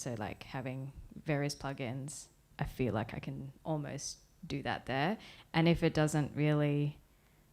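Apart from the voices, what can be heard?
No everyday noises stand out.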